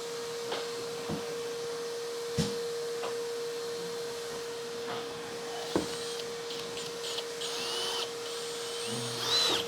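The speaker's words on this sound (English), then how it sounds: "Drill's going in the wrong direction." A power drill drives screws into a recessed panel, its motor holding a steady, even whine under soft clicks and knocks, fairly quiet with no voices.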